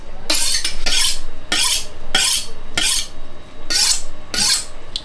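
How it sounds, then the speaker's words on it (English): A kitchen knife slicing vegetables thinly for ratatouille, rocking from heel to tip; about seven crisp, evenly spaced cuts land on a board, close and fairly loud, with no talking. "So you just want to cut your vegetables quite thin."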